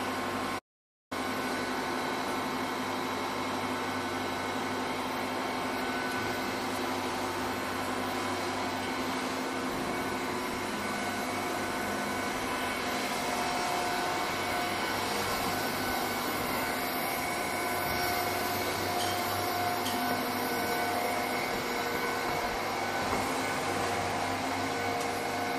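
A small tandem Van de Graaff particle accelerator runs with a loud, steady mechanical hum and whine, continuous and unchanging throughout with no voices.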